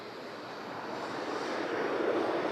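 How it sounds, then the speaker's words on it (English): A Jet2 airliner taxis at Manchester Airport, its jet engines giving a steady, broad whoosh that swells slightly as it passes at moderate distance, with no voices. "Sunny G taxis past us."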